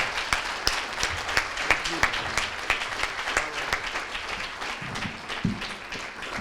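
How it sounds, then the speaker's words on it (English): Audience at a village mayor's state-of-the-village address gives another round of applause, a moderate crowd clapping with distinct individual claps standing out, with faint voices beneath. "How about one more round of applause?"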